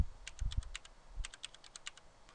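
Keys on a computer keyboard are tapped quickly in two short bursts as a number is typed, crisp and close, with a few soft low thumps at the start.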